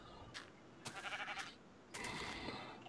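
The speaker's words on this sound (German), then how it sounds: "Oh, ein Schaf." Sheep in the Minecraft video game bleat in short, wavering calls, roughly three or four of them separated by brief pauses, fairly close and clear over quiet background.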